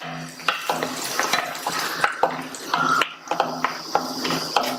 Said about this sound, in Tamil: இந்த ஸ்டேஜ்ல 10-12 உலர்ந்த திராட்சையும் சேர்த்து வறுத்துக்கலாம்.